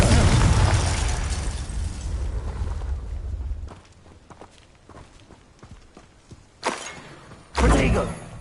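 A Confringo spell explosion in Hogwarts Legacy on PS4, a loud blast and roaring burst at first that fades, followed by scattered impacts and two later sharp bursts.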